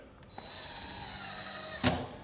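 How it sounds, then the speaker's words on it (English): A power driver whirs steadily as it sinks a modified truss screw through the nail fin of a window installed over peel-and-stick housewrap, ending with a sharp louder clunk, nearby and without speech. "You can see here that we're using a modified truss screw."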